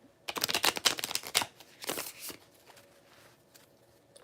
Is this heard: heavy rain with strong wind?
no